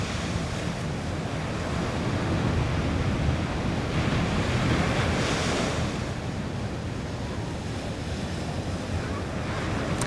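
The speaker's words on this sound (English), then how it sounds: "just take a moment and listen to the ocean" Ocean waves rolling onto a California beach, a broad steady wash of surf with gentle swells in intensity, mixed with wind buffeting the microphone, and no voices.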